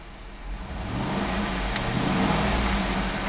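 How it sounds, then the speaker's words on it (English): A 2009 GMC Yukon Denali AWD engine revs up from idle, rising into a sustained steady roar that holds close and loud with no voices. "I'm going to go ahead and rev the engine, keep an eye on the tachometer."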